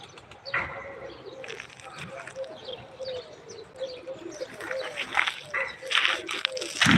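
Pigeons coo and flutter nearby, with soft chirps and wing noise scattered over a quiet outdoor background, growing busier toward the end.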